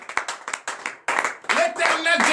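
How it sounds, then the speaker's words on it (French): A church congregation claps in acclamation, first in separate sharp beats and then in a denser rhythmic run. Voices rise and sing over the clapping toward the end. "Donnez l'acclamation à notre Seigneur Jésus."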